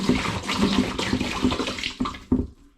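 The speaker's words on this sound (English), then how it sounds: "I'm going to begin by putting 2 litres of cold water into my brew bucket" Cold tap water runs into a plastic brew bucket in a sink, a close, continuous splashing rush that thins out and stops near the end.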